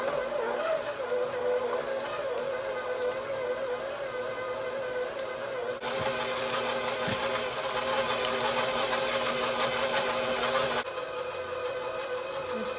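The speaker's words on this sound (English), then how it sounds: "We're still beating our cream cheese." Electric hand mixer beating cream cheese for a New York cheesecake, a steady loud whine and motor drone that runs unbroken and rises in pitch partway through as the speed changes.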